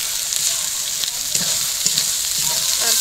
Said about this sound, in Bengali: এখন ওই টমেটো কেটে রাখা টমেটোগুলো দিয়ে দেবো